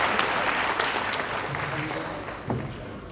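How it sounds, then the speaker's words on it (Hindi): Audience applause at a gold medal award function greets a poet called to the stage, a dense, steady clatter of many hands filling the room with a slight swell near the end. "तालियों की गूंज से"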